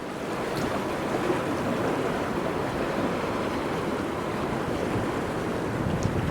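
Sea waves and wind sweep past a ride at Port Aventura set above the water, a steady broad roar of surf and gusty wind buffeting the microphone, continuous with no talk.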